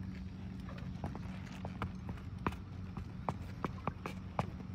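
A 2011 quarter horse, a barrel and pole horse, clip-clops in a steady rhythm of sharp hoof strikes at moderate distance, with faint background noise between the beats.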